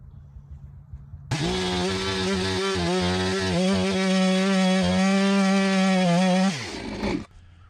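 A saw cutting very hard fat lighter pine wood, a loud, steady motor whine with a sustained tone that holds for about five seconds before winding down, with no talking.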